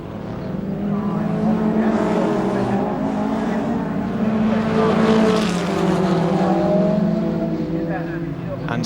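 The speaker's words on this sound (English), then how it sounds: "the battle's still on between the Capri and the Sierra" Ford Capri and Ford Sierra race cars battling at Snetterton circuit in 1992, loud engines roaring and revving close by in a continuous dense drone, with a commentator talking over them.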